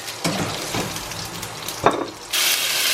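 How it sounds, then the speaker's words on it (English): Pineapple, green beans and peppers stir frying in a hot pan, with a steady close sizzle, a few sharp stirring scrapes, and a louder hiss as the vegetables hit the oil near the end. "Same hot pan, add all the veg, pineapple, green beans, a couple more green beans, and peppers. And we stir fry that"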